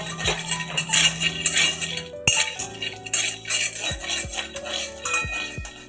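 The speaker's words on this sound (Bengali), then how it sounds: "শুকনো কড়াইয়ে এবার বাদামটা একটু নিয়ে নেব।" Peanuts dry-roasting in a dry wok rattle and clink against the metal, with repeated light scrapes and taps in an uneven rhythm, close by and with no talking.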